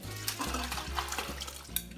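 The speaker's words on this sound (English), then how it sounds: "So I'm taking my sliced lemons and all the water they've been sitting in overnight and I'm pouring it." Sliced Meyer lemons and their overnight soaking water poured into a pot for marmalade, a short, close splashing gush with sloshing and a few light knocks against the pot.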